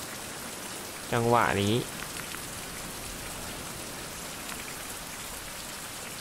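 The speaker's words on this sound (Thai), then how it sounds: "โอ้ยฝนตก" Steady rain in the survival game Survival: Fountain of Youth patters as a constant hiss of drops, with someone briefly speaking over it near the start.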